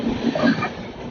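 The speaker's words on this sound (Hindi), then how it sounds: "हमारी ट्रेन धनबाद जंक्शन में देख सकते हैं आप लोग एंट्री ले रही है प्लेटफॉर्म क्रमांक 6 पे" Swarna Rekha Express rumbling into platform 6 at Dhanbad Junction, a brief steady rolling roar of rail cars heard close.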